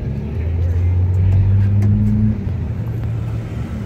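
Ford Mustangs, including GTs and a Cobra, rumble at a car meet in Gastonia, North Carolina, a deep steady engine idle close by that swells briefly before easing, with crowd noise around.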